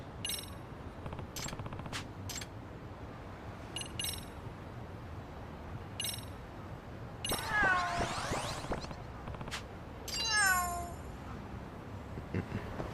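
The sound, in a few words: cat meowing in video game Lost Judgment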